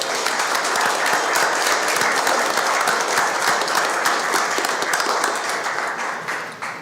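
Applause for Donald Faucet at a county commissioners court meeting: a room of people clapping steadily and densely for about seven seconds, fairly loud and even, tapering slightly at the end, with no talk over it.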